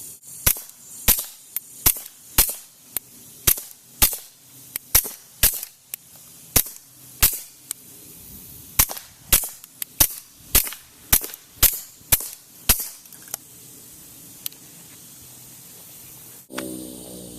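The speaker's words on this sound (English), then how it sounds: "I'm shooting the AAC Element 2 through the Walther P22." A Walther P22 pistol fitted with an AAC Element 2 silencer fires CCI Mini Mag rounds in a steady string of about twenty sharp, muffled cracks at a regular pace, followed by a short rustle at the end.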